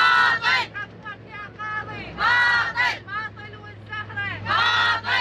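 A protest crowd outside the Supreme Judicial Council in Baghdad chants in loud, rhythmic bursts, with a massed voice rising and falling in waves over a low steady hum.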